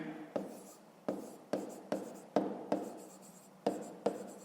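A pen writes by hand in a Grade 5 maths exercise, making a steady series of about nine soft scratching strokes that come at regular intervals, close and quiet, with no voice.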